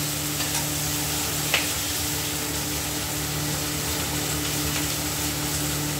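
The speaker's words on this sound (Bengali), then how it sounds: "মাছ আবার খুব কম আঁচে ভাজলে মাছ আবার ভেঙে যায়" Rohu fish pieces frying in oil in a pan for a thin curry, a steady close sizzle and hiss with faint clinks, no voices.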